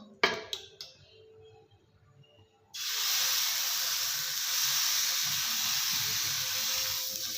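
Rava uttapam batter hits a hot pan after a few light clinks, breaking into a loud, steady sizzling hiss that continues evenly to the end.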